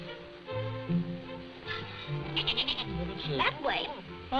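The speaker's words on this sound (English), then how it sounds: "Burley's a very warm goat, isn't she?" A goat bleats a few times in a 1937 black-and-white film soundtrack, with wavering cries set against music and people talking.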